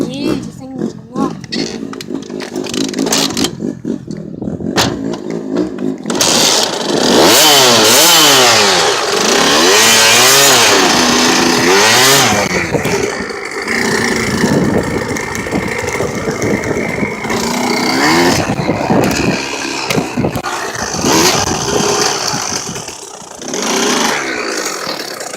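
A dirt bike engine revs hard while wheelies are ridden, rising and falling roars close and loud, with sputtering idle stretches and a voice speaking over parts of it.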